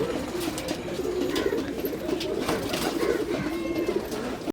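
Green-necked pigeons kept on a house rooftop coo continuously in low, throaty, overlapping calls, close and steady with light background noise.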